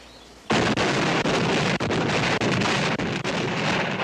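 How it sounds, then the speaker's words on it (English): A small dynamite charge goes off in a TV drama scene: a sudden loud blast after brief quiet, followed by a sustained rumbling roar with a few brief dips, no voices. "Well, in this demonstration, we use small explosions."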